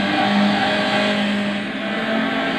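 A 1999 Nissan March G 1.3 16V in the video game Gran Turismo 6 accelerates steadily, its loud, constant, humming engine drone rising slightly in pitch with no speech.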